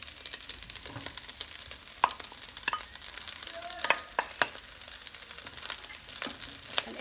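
Rice browning in oil with boiled peas and carrots, sizzling steadily in a pan while a spoon stirs and scrapes through it with scattered crackles and rustles, close and moderately loud throughout.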